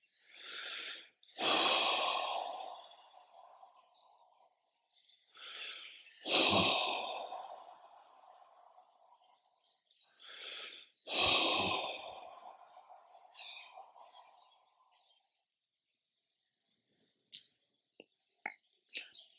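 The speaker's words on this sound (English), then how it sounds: "Take 3 deep breaths, sigh with relief." Three deep breaths during a guided Buddhist meditation, each a long inhale followed by a loud, sighing exhale, evenly spaced and close, with quiet pauses between and faint small sounds near the end.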